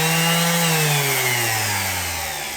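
A Hikoki SV13YA random orbit sander runs with a steady motor whine whose pitch slowly drops as it spins down, loud and close with no talking.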